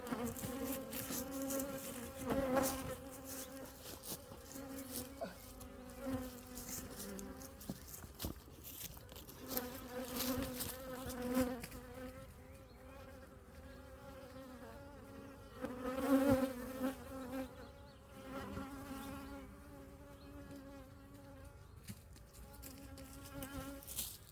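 Honeybees buzzing at an opened tree-trunk hive colony, a dense continuous drone of many wings close by, swelling and easing at moments with no talk over it.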